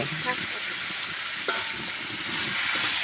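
Food fries and sizzles in a pan in a Tripura village kitchen, a steady close hiss broken by a sharp clank of stirring. Voices talk faintly in the background.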